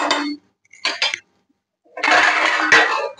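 A metal lid going onto a cooking pot while making egg biryani, heard as short clinks and a longer metallic scrape and rattle, close and fairly loud.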